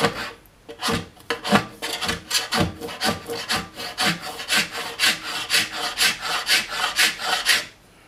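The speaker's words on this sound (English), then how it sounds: "very lightly we'll just start pulling the file towards us" A hand file is drawn slowly across a ski base, giving a steady series of about a dozen close, rasping strokes with short pauses between them and no talking.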